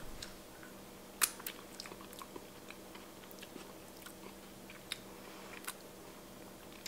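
Someone eating a chunky garlic scape dish in a homestead kitchen: a few soft, sparse bites and chews, close and quiet over a low steady hum, with no talking.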